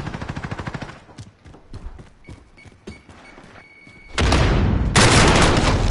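Rapid full-auto gunfire in Call of Duty Modern Warfare, an opening burst of evenly spaced shots, then scattered single shots and impacts, ending in loud, sustained dense firing and blasts.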